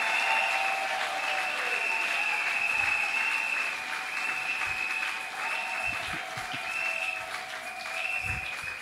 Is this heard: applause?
yes